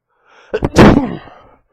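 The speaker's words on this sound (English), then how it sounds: "Sorry, I had to sneeze there" A single sharp sneeze bursts out up close, a quick catch of breath followed by one loud explosive burst that trails off.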